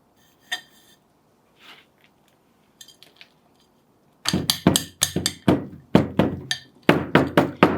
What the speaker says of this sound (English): Being terracotta, you can bang it, which is great.